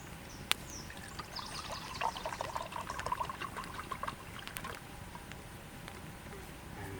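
Water poured into a cup holding powdered drink mix on a canoe trip, a faint thin trickle and splash for a few seconds in quiet outdoor surroundings.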